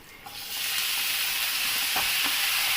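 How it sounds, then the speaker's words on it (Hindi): Chopped green chillies, chilli powder and vegetables fry in a pan for a spring roll filling, a close, loud, steady sizzle that swells after the first half-second, with faint stirring and no voices. "तो हमने इन सबको फ्राई कर देना है अच्छे से।"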